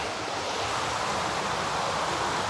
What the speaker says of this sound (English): So we're looking up the stream again. Look at the waterfall.